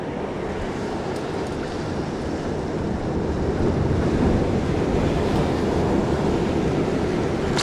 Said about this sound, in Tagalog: may malakas na alon.